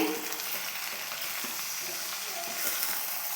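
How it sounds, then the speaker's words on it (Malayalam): Chicken pieces stirred and fried with onions in a pan for chicken perattu, a steady sizzle with scraping stir strokes throughout, close and fairly loud, no talking. "ചിക്കൻ ഇതിലേക്ക് ചേർത്ത് കൊടുക്കാം ഇനി ഇത് നല്ലപോലെ ഒന്ന് മിക്സ് ചെയ്യണേ"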